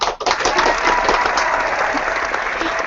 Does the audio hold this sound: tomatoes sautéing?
no